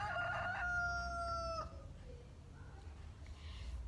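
A rooster crows once, loud and drawn out, over a low steady rumble, followed by quieter background sounds.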